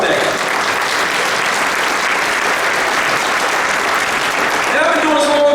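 Sustained audience applause fills a community dinner hall, steady and dense clapping from a large crowd throughout, with no pauses.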